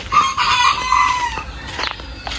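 A flock of chickens on a rural farm, clucking with a rooster crowing loudly at close range, one drawn-out crow followed by shorter excited clucks and squawks, with no voices.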